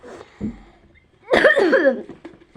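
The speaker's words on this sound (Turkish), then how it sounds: "Öksürmeye başladık demek." A person coughs, a brief rough burst followed by a longer, louder, strained cough with a throaty rasp, close and alone.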